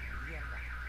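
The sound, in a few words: car alarm going off, real, not from the game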